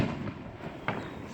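Fireworks bursting out of sight behind trees at a public display, heard as a low distant rumble with one sharper pop near the end, faint and muffled.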